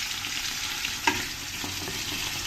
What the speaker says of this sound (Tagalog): Fry muna natin yung asa-asa.